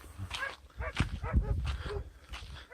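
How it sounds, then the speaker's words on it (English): Several dogs bark excitedly in bursts, overlapping yelps and howl-like barks, fairly close with some background noise. "Yes, the dogs are going crazy."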